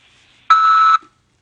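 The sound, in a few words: beep prompt tone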